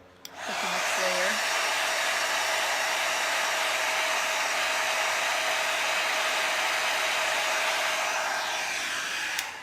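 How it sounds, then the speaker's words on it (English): A hair dryer blasts steadily to dry a layer of Chalk Couture paint, a loud, even whooshing that runs for about nine seconds with no talking. "let me blow dry it so I can put the next layer"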